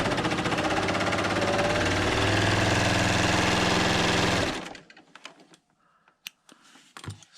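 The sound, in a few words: Bernina L890 sewing machine stitching quilt layers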